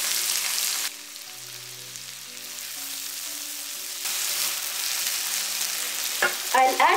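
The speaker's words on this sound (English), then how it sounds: "Once the garlic is golden brown in color, I'm going to add chopped onion." Chopped onion hits hot oil with golden garlic and cumin seeds in a pan, giving a steady hissing sizzle that drops briefly, then swells again, with a spoon scraping and stirring near the end.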